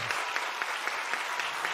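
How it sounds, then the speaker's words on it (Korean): A church congregation at an Easter Sunday service claps for a child, Jiyu, a dense, even applause with faint rhythmic accents, close and steady throughout with no talking. "박수해 주시기 바랍니다."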